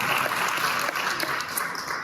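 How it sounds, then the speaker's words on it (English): Audience at a talk clapping in a brief burst of moderately loud applause, a dense patter of many hands that continues steadily without a pause. "If you're going to give me applause, I need an extra minute."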